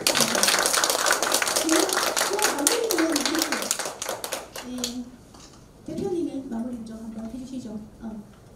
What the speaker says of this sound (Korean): 세 분 패널 여러분들께 박수 한번.